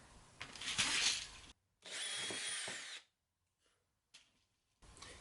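A tap cutting M3 screw threads into metal on a lathe setup, heard as bursts of grinding, whirring tool noise separated by abrupt silences, close and fairly loud.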